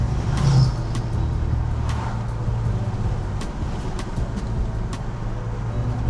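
A BMW 540i cruising at low speed through a residential neighborhood, a steady low engine hum with road rumble and a few faint clicks and knocks, heard from close by without talk.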